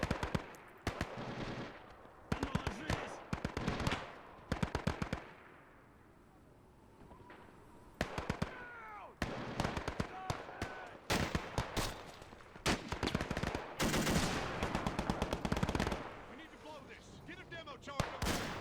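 Machine gun fire from a 1946 Soviet invasion of Alaska battle in the Gates of Hell game: repeated bursts of rapid gunfire with distant booms and short quiet gaps, while someone talks over it.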